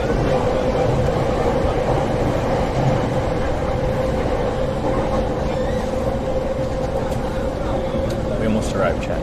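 A Tokyo commuter train runs along its rails with a continuous rumbling roar and a steady tonal hum, loud and unbroken from start to finish, with faint talk mixed in.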